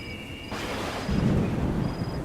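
Heavy rain falls at night as a dense, continuous wash of noise with a low rumbling swell, moderately quiet throughout.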